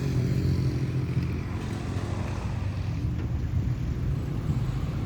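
An old Volkswagen bus rumbles along a street in Roma Norte, Mexico City, a continuous low engine drone with road noise passing close by for several seconds, without speech.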